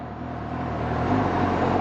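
A steady low engine hum from a Suzuki GSX-S750 motorcycle idling at low rpm drones on without interruption, a smooth idle that swells slightly partway through.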